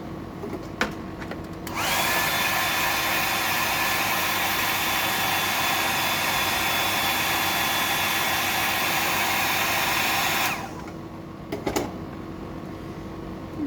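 Small hair dryer blowing over a coat of paint on fishing lure pinkies, a steady close whoosh switching on, running about nine seconds at even loudness, then cutting off, with faint handling clicks around it.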